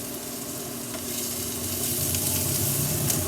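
Corned beef sizzles steadily in a hot pan, a loud, continuous frying hiss that swells slightly as it cooks, with no voices.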